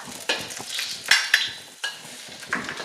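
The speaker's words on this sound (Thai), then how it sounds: "ผัดกระเทียมให้หอมค่ะ" Metal utensil scraping and clanking in a pan as minced garlic stir-fries in oil, with a soft sizzle underneath, several sharp taps spaced irregularly, close and fairly loud.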